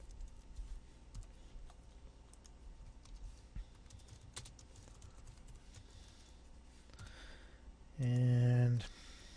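Soft, irregular hunt-and-peck keystrokes as code is typed on a computer keyboard, faint clicks against a quiet room, with a short louder tonal burst near the end.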